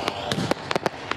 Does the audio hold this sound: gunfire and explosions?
yes